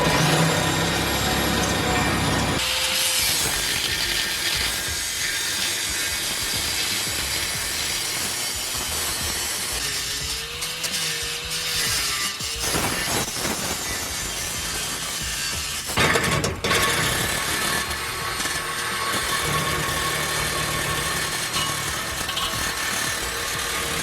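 Exhaust pipe being cut under a 1988 Mustang for a resonator install, with a loud, continuous grinding or sawing roar that shifts in pitch and pauses briefly, close and harsh throughout.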